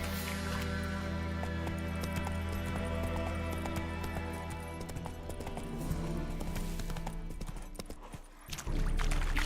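Roach the horse galloping in The Witcher 3, steady rhythmic clip-clop hoofbeats close up over an ambient game background, with no speech.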